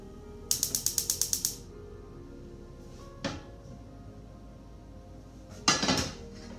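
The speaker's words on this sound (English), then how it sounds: "So I'm going to turn on my stovetop." A stovetop is switched on, giving a rapid run of about eight sharp, ratchet-like clicks close by, followed by a single tick and a later brief burst of clicking, with no talking.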